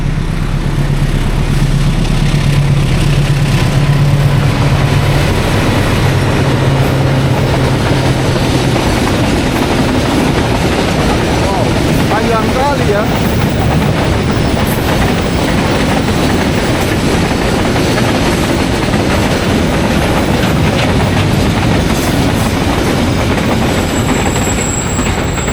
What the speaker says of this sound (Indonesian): Kita lihat kereta terlebih dahulu ya.